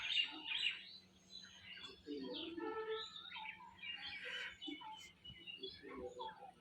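Birds in a nearby tree in a rural mustard-farming area chirp and twitter softly in a scattered, overlapping chorus, faint and continuous with no single dominant call.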